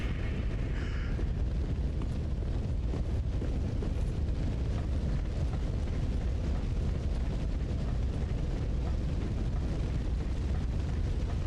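Fire burning across the ground in Dark Souls 3, The Ringed City DLC: a steady, low roaring rumble that holds unchanged throughout, with no voices.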